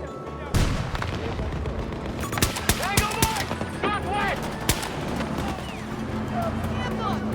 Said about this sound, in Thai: ยิงยิงจากมุมไหนวะ